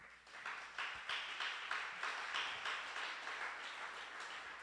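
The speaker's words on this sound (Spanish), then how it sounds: "Dele un aplauso" Applause from a church congregation at a Spanish-language service, a steady wash of many hands clapping with rhythmic surges throughout, moderately loud and without talk over it.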